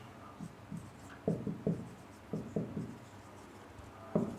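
Chalk or marker strokes on a board during an English grammar class, a series of short scratchy bursts in small clusters, fairly close with quiet room tone between.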